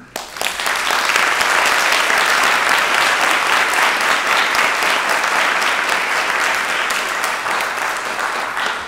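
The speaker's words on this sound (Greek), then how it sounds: "νομίζω πως αξίζει ένα θερμό χειροκρότημα" Warm, sustained applause from a concert audience at a university diploma recital, a dense continuous clatter of many hands starting abruptly and holding steady for several seconds before easing slightly.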